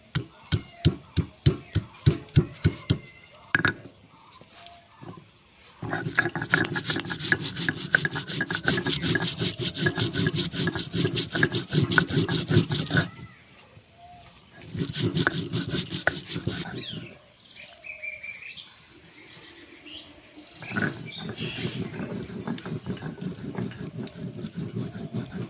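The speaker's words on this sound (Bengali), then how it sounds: "আদা আর জিরে বেটে নেব।" Ginger and cumin are ground into a paste, giving rhythmic rasping, rubbing strokes: quick sharp scrapes at first, then long steady grinding bursts separated by short pauses, close and fairly loud.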